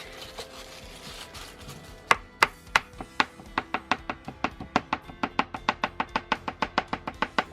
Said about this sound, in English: I have this basil, this fresh basil from my basil plant.